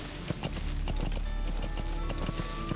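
Horse hooves clip-clop at a steady gallop in Metal Gear Solid V: The Phantom Pain, a rapid run of close, evenly spaced hoofbeats over continuous game background sound.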